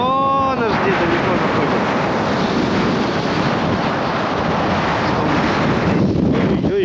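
Loud, continuous wind roars and buffets against the microphone outdoors on the Crimean coast near Ordzhonikidze, with a brief voice at the start and another near the end.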